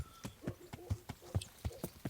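Hooves of the horse Pebbles clip-clopping in Kingdom Come: Deliverance, a quick steady rhythm of about eight close, crisp hoofbeats over two seconds.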